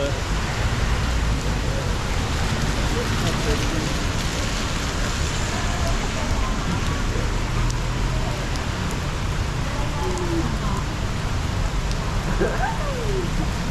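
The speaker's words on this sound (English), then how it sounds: "Kind of raining" Steady rain pours down on Calçada do Gaio, a sloping street in Macau, a dense and even hiss of drops close all around that holds throughout without a break.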